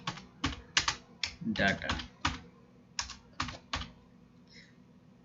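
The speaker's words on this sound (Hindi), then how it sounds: "तो यहाँ पर हम टाइप कर देते हैं इनवैलिड" Quick bursts of keystrokes rattle on a computer keyboard while entering text into an MS Excel 2016 spreadsheet, clicking in short clusters under a voice.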